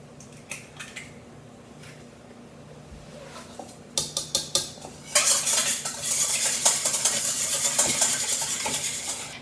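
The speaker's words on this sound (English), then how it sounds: "We want to take our 1 egg and just lightly beat it." A single egg is lightly beaten in a bowl: a few sparse taps, then a quick run of rhythmic clinks and swishes from a utensil whisking against the dish, growing louder and steadier toward the end.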